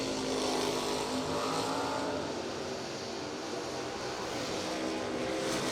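A 1968 Camaro and a 1986 Mustang drag race side by side, a loud, dense, continuous engine roar that holds steady throughout.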